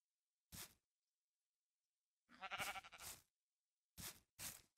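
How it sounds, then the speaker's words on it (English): Sheep bleating in the Minecraft video game, heard as several short separate calls: one brief bleat, a longer wavering bleat, then two quick ones near the end, clear against silence. "Is a sheep encroaching on one of your towers?"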